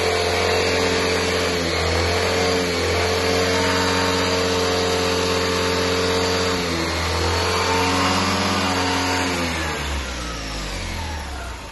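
A Tata Nano with a blown head gasket and overheating trouble runs close by, its small engine droning steadily and loudly before the pitch shifts and the revs drop toward the end.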